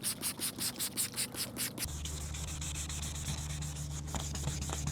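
Wet sanding with soaked 1000 grit sandpaper on an e-bike part: a quick rhythmic series of close rubbing strokes, then a steadier continuous scrubbing sound.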